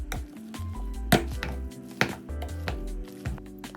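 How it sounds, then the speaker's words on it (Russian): Boiled potatoes being mashed with a hand masher in a pot, a series of dull, irregular thuds and squelches with light metallic knocks against the pan. "И теперь при помощи толкушки делаем пюре."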